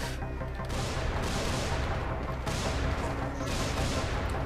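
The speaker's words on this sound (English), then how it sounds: "Where's those explosions coming from?" Dense, sustained bursts of gunfire and explosions from the zombie game Dying Light during co-op play, a continuous loud barrage with sharp cracks repeating throughout.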